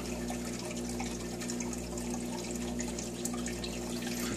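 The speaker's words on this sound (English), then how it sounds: "draining the water from the top." Water drains from the top of a fish tank aquaponics system as a steady, continuous trickling and rushing flow with a low hum underneath, unbroken throughout and with no voices.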